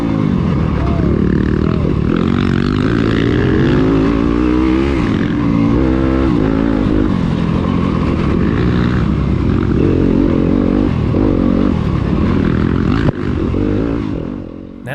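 Dirt bikes race through a hare scramble course, a KTM passing among them; engines drone and rev steadily for the whole stretch, loud and close, with a sharp knock near the end.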